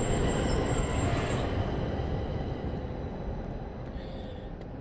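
Steady rumbling train noise at a station in The Darkness video game, a continuous loud low roar of rail movement that fades slightly toward the end, with no talk.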